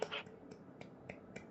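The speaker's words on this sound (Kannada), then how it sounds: "ಚಪ್ಪಾಳೆ ತಟ್ರಿ" A few scattered, fairly faint claps at an evangelism session, sounding as sparse single hand-claps spaced out over a second and a half rather than full applause.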